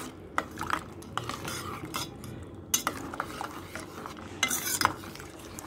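A spoon stirs boondi raita in a bowl, giving scraping, clinking strokes in an uneven rhythm, close and fairly loud, no voices.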